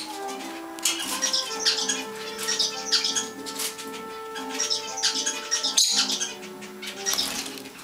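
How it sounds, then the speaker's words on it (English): Fischer's lovebird chirping and squawking in short bursts with brief wing flutters, heard close, with steady tonal hum underneath. "What a big bird you are."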